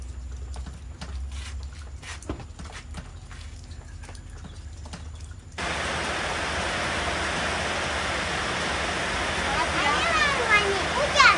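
Rain begins falling after a stretch of quieter room sound with scattered clicks, turning into a steady, close hiss of rain on surfaces that grows slightly heavier toward the end.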